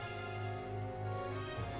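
Steady rain falls in the fantasy RPG Metaphor: ReFantazio, a continuous soft hiss spread evenly across the clip, with tonal game music layered over it and no talking.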